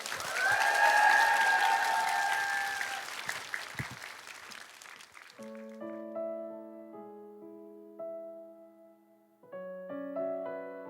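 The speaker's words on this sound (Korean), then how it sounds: "여러분 박수 부탁드립니다" Applause from a concert audience at a singer-songwriter's televised talk concert swells for a few seconds and fades out. Sustained electric keyboard chords then enter and carry on to the end.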